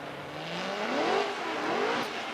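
A drift car does a burnout at a competition, its engine revving hard in rising and falling sweeps over a broad roar of spinning tires, loud and continuous.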